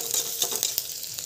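Chopped garlic and ginger fry in a pan with a soft, bright sizzle, and light rhythmic stirring taps and scrapes sound close up.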